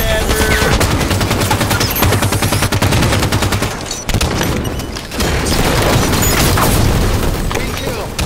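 Loud, dense automatic gunfire from the Halo 5 video game, rapid bursts and booms firing almost continuously with a brief pause midway, mixed with game effects.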